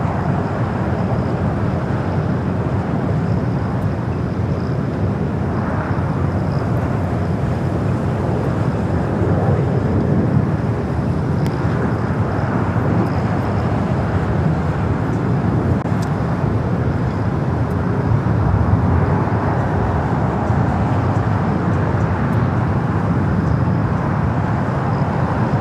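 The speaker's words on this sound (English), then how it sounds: "Flight 810 coming up from Nandi, the A350-900, on its way here to the south side" A Fiji Airways Airbus A350-900 arriving at LAX produces a loud, continuous broadband roar that stays level throughout, with faint background voices now and then.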